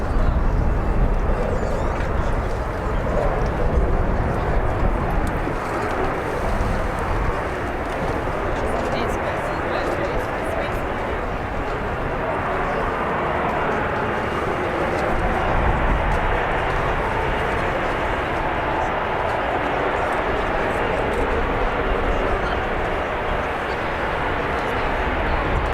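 An AV-8B Harrier II jet flies a display at an air show, its broad engine roar steady and loud throughout, with a commentator talking over it.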